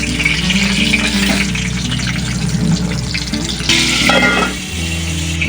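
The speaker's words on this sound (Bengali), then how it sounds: "এবারে ফুলকপিটা দিয়ে আলগা করে ঢাকনাটা চাপা দিয়ে দেবো।" Cauliflower fries in hot oil under a loosely set lid in a home kitchen while cooking doi fulkopi, a steady close crackling hiss that shifts and quietens slightly near the end.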